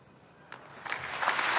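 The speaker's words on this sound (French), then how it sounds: "You hear now the assembly applauding as we assisted to the solennial beatification of Pauline Jaricot" Applause from a large assembly at the beatification of Pauline Jaricot in Lyon, starting faintly and swelling into a steady wash of clapping by the end.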